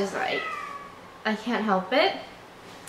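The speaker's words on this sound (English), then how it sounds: "He's standing by the door meowing." A pet cat meows by a door, several drawn-out meows close to the mic, with a person speaking briefly over the first cry.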